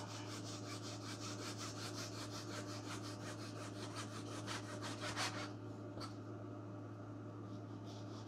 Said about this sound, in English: I'm gonna start cutting out my hinge blocks for my flaps.